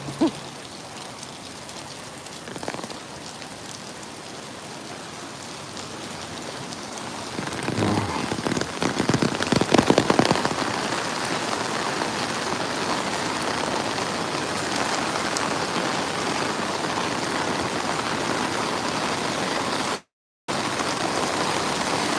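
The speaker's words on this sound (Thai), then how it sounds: "เป็นบรรยากาศฝนตกนะครับ ตกจริงๆครับสองวันซ้อนแล้วนะครับ" Steady rain falls throughout, a dense even hiss that swells a little partway through, with no voices.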